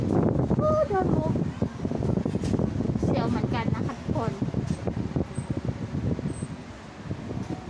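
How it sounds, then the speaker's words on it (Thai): Strong wind gusts roar and buffet the microphone steadily at the Winterval Christmas festival in Waterford, up on a Ferris wheel, while someone talks through most of it. "ที่สำคัญคือลมแรงมาก"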